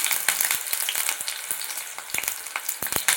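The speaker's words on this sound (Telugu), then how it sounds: "ఆయిల్ హీట్ అయిన తర్వాత ముందుగా కట్ చేసి పెట్టుకున్న ఉల్లిపాయ ముక్కలు వేసుకోవాలండి" Chopped onions sizzle in hot oil in a home kitchen pan, a steady close crackle with sharp pops and spits scattered through, no voices over it.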